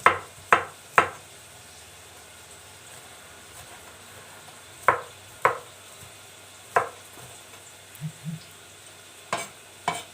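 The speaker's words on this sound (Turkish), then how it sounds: "Evet biberleri de doğradık." Sharp knife chops on a cutting board as peppers are chopped, three quick strikes, a pause, then scattered single chops against a quiet kitchen background.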